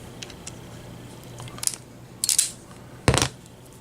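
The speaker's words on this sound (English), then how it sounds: "Let's see if we can get that foil off there now." Foil shielding peeled off a shielded wire: a few soft crinkling rustles early, then two brighter, sharper crackling bursts of foil close by, with quiet gaps between.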